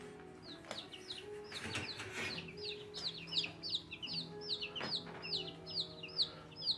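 Chickens clucking and chirping close by, a busy series of short repeated calls overlapping throughout, moderately loud against a quiet outdoor background.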